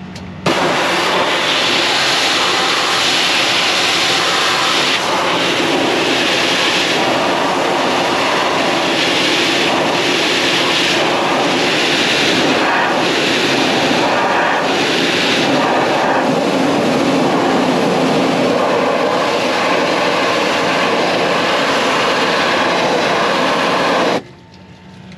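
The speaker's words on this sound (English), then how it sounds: "I'm just going to spray through the fan side and film here, and you can kind of see the crud coming out" A spray nozzle blasts water through the fan side of a mud- and straw-caked ISX Cummins truck radiator. The loud, steady hiss and rush of spraying holds near and unbroken for about 24 seconds, then cuts off.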